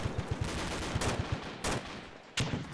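Gunfire in the Arma 2 video game crackles in quick bursts, some short rapid volleys and a few louder single reports, moderately close.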